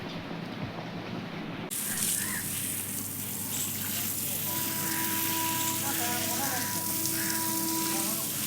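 A steady hiss of water spraying from a hose pipe onto the ground outdoors, starting abruptly and continuing under a faint background hum, with some voices in the distance.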